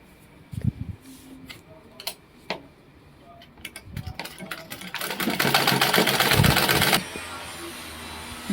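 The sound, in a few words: sewing machine sewing garment pieces together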